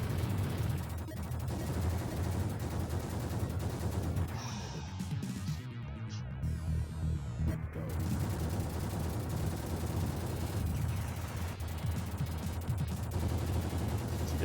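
Rapid retro video game gunfire from a Terminator game, a dense, steady crackle of shots running almost continuously at moderate loudness, easing briefly in the middle before resuming.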